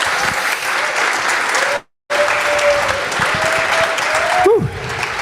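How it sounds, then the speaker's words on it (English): Sustained audience applause from a conference crowd fills the room, loud and steady, with a brief gap of silence partway through and a short voice-like tone near the end. "So give her a big applause again."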